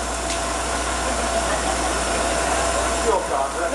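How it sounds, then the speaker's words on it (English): A car engine idles steadily in the background, a low continuous hum with a faint rattle that runs through the clip at a constant level without revving. "Could you, turn your car engine off a moment?"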